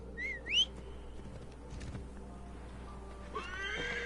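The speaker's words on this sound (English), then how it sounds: "So we can go ahead and call a horse." A horse whinnies twice after being called in Assassin's Creed Origins, set in the Black Desert of ancient Egypt. The high neighs come early and clear, then a quieter stretch with faint hoof sounds, then a softer trailing whinny.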